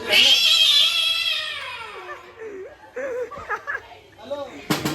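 At a Ganpati festival night celebration in a home, a voice imitates a long, drawn-out cat meow that falls in pitch, followed by a few short vocal bursts and a brief sharp noise.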